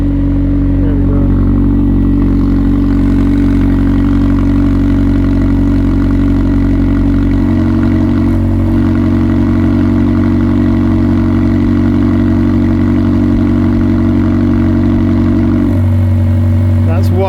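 McLaren engine idling steadily and loudly with a deep, constant drone, its exhaust valves switched by a remote controller; the tone shifts near the end as the valve setting changes, with voices talking over it.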